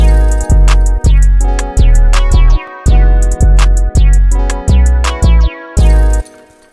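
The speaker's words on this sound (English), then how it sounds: "I laid those down with the first 808, the hat, clap, and then the perks and the open hat." An FL Studio beat plays loud and steady, with booming 808 bass notes, a crisp clap, hi-hats, percussion hits and an open hat in a repeating pattern.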